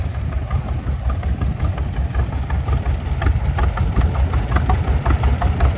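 A single-cylinder 3.5 litre vintage tractor engine fires away at a steam fair ring parade, a loud, close, low chugging with a rapid, steady beat throughout.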